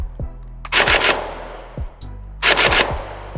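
A QWK Challenger MK III Pro dart blaster fires two quick bursts, each a rapid clattering string of shots over a low motor whir, separated by a short pause with a few mechanical clicks.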